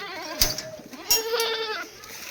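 A goat bleats nearby in a couple of wavering, nasal calls, with faint background noise between them.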